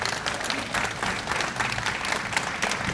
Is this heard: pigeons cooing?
no